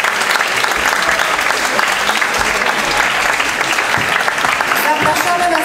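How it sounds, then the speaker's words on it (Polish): Steady audience applause fills a festival for people with disabilities, honouring a therapy workshop group from Węgorzewo; dense, even clapping from a large crowd holds throughout, with faint voices mixed underneath. "Brawa."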